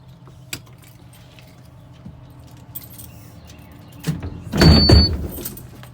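A commercial Class B bus door opens or closes during a pre-trip inspection: quiet mechanical clicks and rattles, then a louder, brief rush and clunk of the door mechanism near the end.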